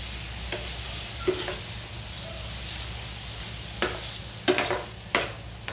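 Drumstick pods sautéing in a spice masala for a Maharashtrian shevga bhaji: a steady low sizzle runs throughout, with a few sharp scrapes and clicks of a spatula against the pan, close and without speech.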